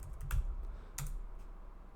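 Keys on a computer keyboard are tapped in a few faint, quick strokes against a quiet room hum, with no one talking.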